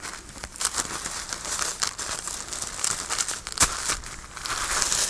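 Handmade rice paper is folded and handled, giving close, steady crinkling and crumpling with a few sharper rustles, and no talking.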